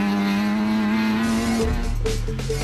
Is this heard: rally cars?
yes